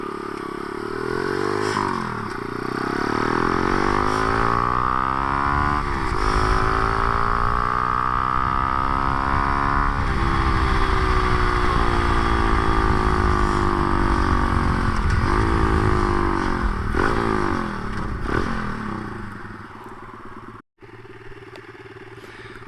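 A motorcycle rides along a road, its engine droning loud and steady with rising and falling revs through gear changes, plus wind rush, ending in a brief sharp dropout.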